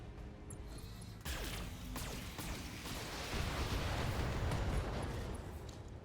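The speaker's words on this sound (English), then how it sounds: "Alright, so we got a torso and an ammo explosion." Mech torso section and ammunition exploding in the Thorium Mercs game, a sudden heavy blast breaking over a low rumble, followed by sustained crashing, roaring explosion noise that swells again before trailing off.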